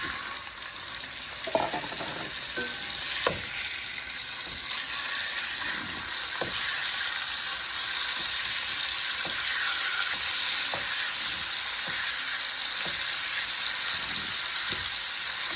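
Ground meat for Lebanese kibbi sizzles and fries steadily in a hot pan, with a continuous loud crackle broken by occasional scraping stirs from a utensil.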